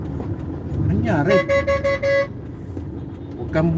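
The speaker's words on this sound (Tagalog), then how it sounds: "huwag kang busi-busina dyan, liliko kakanan ako eh." A vehicle horn honks in several quick toots, loud and close, amid road traffic noise, with someone speaking before and after.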